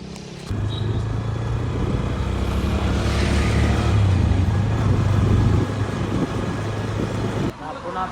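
A car drives along toward the office, its engine and road noise forming a steady loud interior rumble from start to near the end, with voices faint or absent.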